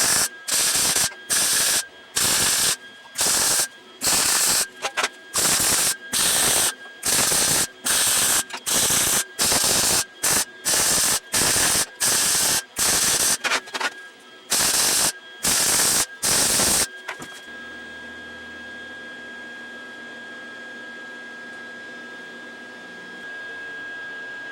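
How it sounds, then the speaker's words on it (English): Arc welding on a large fabricated steel square, heard as a long run of loud, close crackling bursts, each lasting about a second, broken by short pauses, then fading into a quieter background hum. "I'm going to add some more weld to it"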